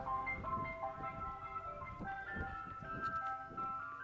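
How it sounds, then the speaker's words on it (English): An ice cream van plays its chiming, music-box-like tune, a bright repeating melody carried over a steady background hum with low rumbling underneath, heard continuously and fairly loud. "found the tunes from ice cream vans were rather funny and somewhat out of character"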